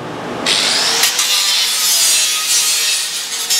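A machine saw cuts thin wooden strips for making puzzles, giving a loud, continuous rasping whine that starts abruptly and holds steady throughout, with no talking.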